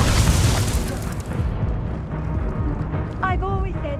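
A fire spell blast in Hogwarts Legacy, a loud booming burst with a roaring whoosh that fades over a few seconds, layered under game sound and a brief voice.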